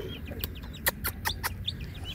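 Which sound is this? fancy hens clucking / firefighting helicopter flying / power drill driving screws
fancy hens clucking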